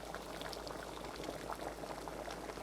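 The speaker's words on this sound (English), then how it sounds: "you could see it's boiling" Water boiling in a pot, a steady close bubbling and rolling hiss that continues evenly throughout without a break.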